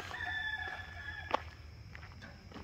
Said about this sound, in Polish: Tutaj kury sobie gdaczą.